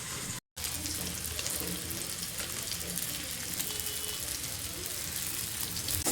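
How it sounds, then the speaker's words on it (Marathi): Faint continuous sizzling of tomatoes with Maggi masala being sautéed in a pan for homemade pasta, a soft frying hiss running throughout with a brief dropout near the start. "मॅगी मसाला चांगला परतून घ्यायचा"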